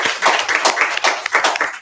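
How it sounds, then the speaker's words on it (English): Clapping from a small group of people at a school board meeting, a brief burst of irregular handclaps at close range with no talk over it. "So, see, Anthony, people clap for me too sometimes."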